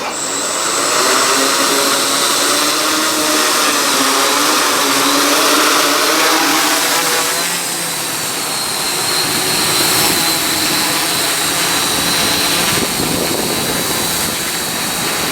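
A quadcopter drone's motors spin up for an aerial-photo takeoff, a loud, close, continuous high-pitched whir with a buzzing, jet-like edge that holds steady for many seconds, rising and dipping slightly, with no talking.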